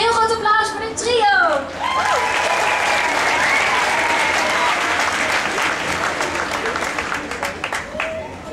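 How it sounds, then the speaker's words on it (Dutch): Concert audience at a Voice Kids show breaking into big applause for a trio of young singers: dense, loud clapping with cheers that swells after a brief spoken introduction and gradually thins out toward the end. "mag ik een heel groot applaus voor dit trio?"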